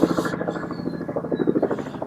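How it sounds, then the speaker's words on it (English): A helicopter's rotor chops in a steady rapid thumping pulse, fairly close and continuous for a couple of seconds. "the helicopter."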